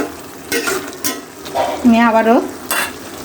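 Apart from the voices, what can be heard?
stirring and mixing ingredients in a pan for dried fish curry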